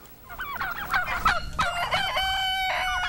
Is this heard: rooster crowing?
yes